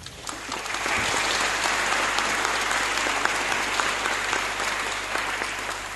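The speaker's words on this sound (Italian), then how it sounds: "Cristina Lucchini, alla quale però chiedo di fargli un applauso" Sustained audience applause at an evening talk on fashion photography and brand identity, rising after a second into steady dense clapping from a full room, with a low constant hum underneath.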